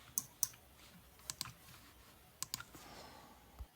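Crisp computer mouse clicks while navigating Fusion 360 menus, scattered single and double clicks spaced across a quiet room, close and sharp with no talk.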